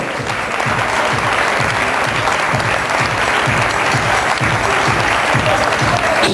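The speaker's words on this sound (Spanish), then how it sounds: "Fuerte el aplauso." Steady, dense applause from a crowd at a parade of beauty queens and candidates, sustained throughout with a faint voice underneath.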